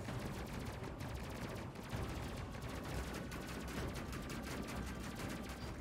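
Ship weapons in the Space Crew game firing in focus-fire mode, a dense, continuous rattle of rapid gunfire, loud and unbroken throughout.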